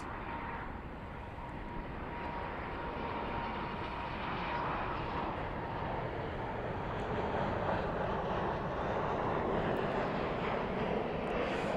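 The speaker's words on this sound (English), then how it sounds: "Spoilers up, reversers out on that Dreamliner. That is a 787-9 Dreamliner" Boeing 787-9 Dreamliner landing at Dallas/Fort Worth at night with spoilers up and thrust reversers deployed, a long, even roar of engine noise that swells slightly as it goes, fairly distant and alone.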